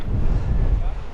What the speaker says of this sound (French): Il y a trop de vent.